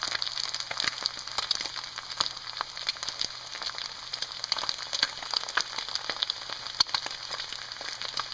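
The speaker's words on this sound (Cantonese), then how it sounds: "我哋將佢較慢火，然之後咧有得佢慢慢煎咧" An egg pan-fries slowly on low heat, giving a soft continuous crackle with scattered small pops, close and fairly quiet, with no talk.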